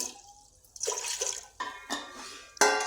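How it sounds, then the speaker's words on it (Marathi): Water splashes and pours in short bursts into a metal pressure cooker on a gas stove, close by, with gurgling pauses between the pours. "गॅसवर कुकर ठेवलेलं आहे त्याच्यामध्ये पाणी टाकून घ्यायचं"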